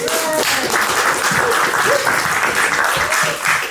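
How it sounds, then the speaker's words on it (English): Loud, sustained applause from an audience at a short-film panel, dense and even, with a few voices and whoops rising through the clapping. "Round of applause one more time."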